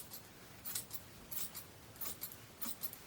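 Scissors cutting through vintage handkerchief fabric in several crisp snips, each a short burst with brief gaps, close and quiet, with no talking.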